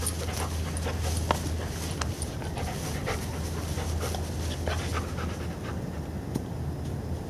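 A dog pants steadily and rapidly at close range throughout an IGP/IPO obedience training session for the one-meter jump, breathing alone against a dense background with faint outdoor noise.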